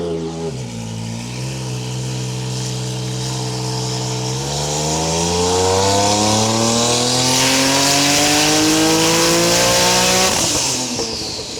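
A high-powered car built for 234 mph half-mile runs is revved hard through a full power run on fuel map 2, its engine note climbing steadily in pitch for about ten seconds, loud and close, before cutting off sharply.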